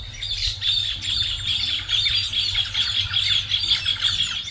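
Dense chorus of squawking and chirping birds along winding river channels at Porto Jofre in Brazil's wetlands, a continuous loud cacophony of overlapping calls with a low steady rumble beneath.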